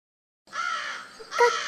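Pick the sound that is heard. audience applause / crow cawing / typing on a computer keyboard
crow cawing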